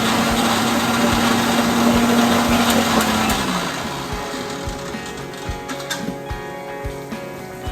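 A kitchen electric mixer grinder whirs steadily while blending a ginger-garlic paste, a loud continuous motor drone that winds down after a few seconds, leaving clicks and rattles of the jar.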